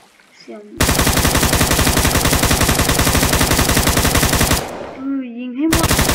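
Rapid, loud automatic gunfire from a modded Minecraft gun, bursts in a sustained volley, with a brief pause and some electronic tones before the firing resumes.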